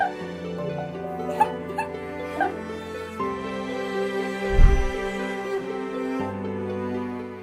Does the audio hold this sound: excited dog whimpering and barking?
yes